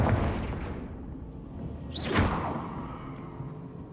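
A Confringo fire spell goes off in Hogwarts Legacy: a single rising whoosh swells into a bright burst just past the midpoint, set against a low, rumbling game backdrop with no speech.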